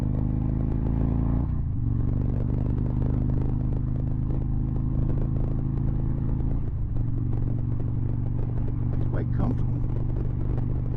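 A 2012 Victory Vision touring motorcycle engine held at full throttle, a loud steady low drone with a sustained hum and rumble, heard from the rider's position with slight shifts in pitch as it pulls.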